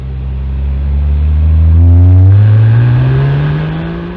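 A Porsche GT3 engine revs hard, its pitch climbing steadily toward a loud peak before a gear change drops it and it climbs again, close up with no talking.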